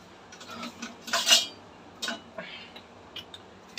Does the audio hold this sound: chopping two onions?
yes